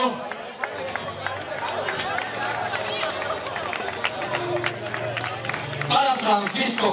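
Applause from a crowd at a triathlon awards ceremony in San Roque, with dense clapping and general crowd noise continuing steadily under a low hum, a voice heard among it.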